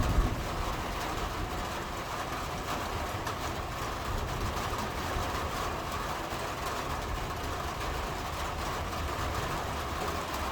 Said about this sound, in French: Oula, beaucoup de pluie.